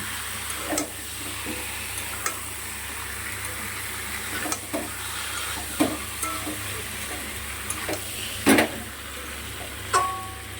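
Chicken pieces sizzle and hiss in a covered pan over low gas heat, a steady close frying crackle broken by occasional stirring clatters and scraping taps.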